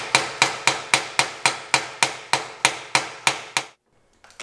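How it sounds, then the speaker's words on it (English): A hammer peens brass pins through a custom knife handle in about fifteen sharp, evenly spaced metallic strikes, loud and close, then a short pause with faint handling. "we peen the other side of the head, and it's a permanent fit at that point"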